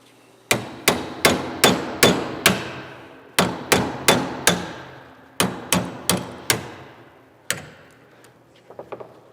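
A pin being hammered out of a spring housing held in a vise: a run of sharp metallic strikes, about seventeen hits in quick clusters with brief pauses, close and loud, then a few lighter taps at the end.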